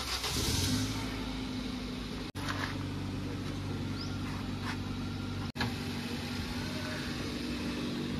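A car engine idling and pulling away slowly during a driving lesson, steady mid-pitched hum from inside the cabin with a couple of brief cuts; no talk.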